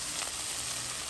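Onions sizzle in a pan for a rougail, a steady close hiss of frying with no voices over it.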